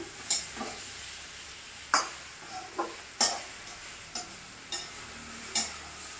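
Brinjal pieces frying dry in a pan for a fish fry dish, a constant soft sizzle broken by a regular series of sharp spatula scrapes and clinks about once a second, with no voices.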